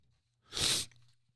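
A single sharp sneeze bursts out loud and close, lasting about half a second, with only a faint low hum before and after.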